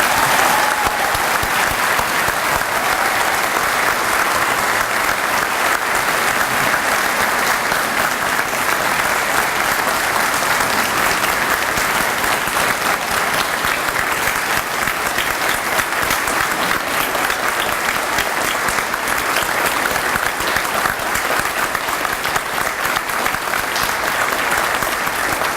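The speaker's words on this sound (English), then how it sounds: "join me in a warm round of applause" An audience at a police chief's swearing-in ceremony gives sustained, even applause for new chief Randy Fenn, a dense steady clapping that holds for the whole stretch without talk.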